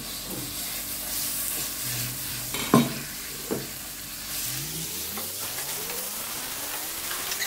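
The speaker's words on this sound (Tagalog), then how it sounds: "ilagay natin sa gilid at ilagay natin yung ground chicken meat" Ground chicken sizzles with crushed garlic in a hot pan, a steady frying hiss broken by a couple of sharp utensil knocks and scraping stirs up close, no talking.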